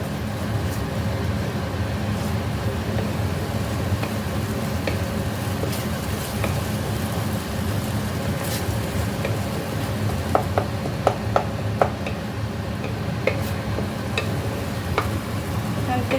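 Garlic-laden masala being stir-fried in a kadai, a steady close sizzle running throughout with occasional scraping clicks of a spatula toward the end, no voices.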